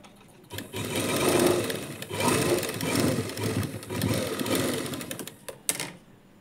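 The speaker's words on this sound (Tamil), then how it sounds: "இப்போது இந்த இதை இப்படி எடுத்துட்டு ஒரு டாட் தச்சுக்கலாம்." A sewing machine stitches a lining blouse in several bursts of whirring, each a second or so long, with short pauses between runs.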